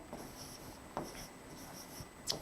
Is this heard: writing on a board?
yes